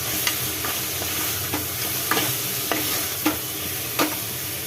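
A spoon scrapes and stirs through a pan of cabbage egg biryani with chopped mint and coriander, a row of distinct clinks and scrapes over a steady low sizzle, with no talking.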